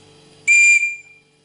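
A single sharp, shrill survival whistle blast sounds close by, lasting about half a second before trailing off.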